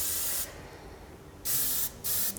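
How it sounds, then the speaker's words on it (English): Hairspray is sprayed underneath lifted hair in three close, loud hissing bursts, a long one followed by two shorter ones, separated by brief pauses. "And I'll just lift the hair, spray underneath,"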